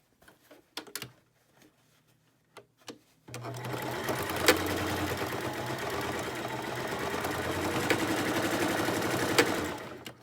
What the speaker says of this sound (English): I'm going to stitch now.